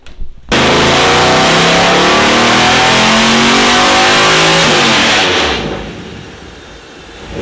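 An LS2 V8 engine in a BMW E46 revs hard and loud for several seconds, a sustained roaring climb, then drops off and settles to a lower idle rumble.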